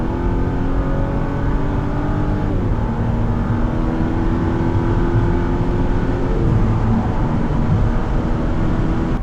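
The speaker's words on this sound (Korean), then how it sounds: "시내 구간에서도 엔진음이 좀 시끄럽다고 생각했는데 가속" A Volvo S90 B5 sedan accelerating on a highway, its engine note rising in a smooth drone, dropping briefly at a shift and climbing again under steady road and wind rumble heard from inside the cabin.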